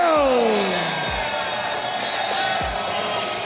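A Toronto wrestling arena crowd cheers and whoops for AJ Styles, a loud sustained roar filling the space, with a few falling whistle tones at the start.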